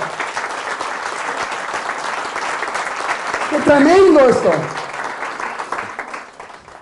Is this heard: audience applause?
yes